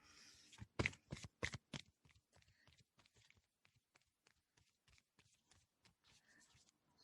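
Oracle cards: a quick riffle at first, loud and close, then a long run of soft, rapid shuffling taps and slides.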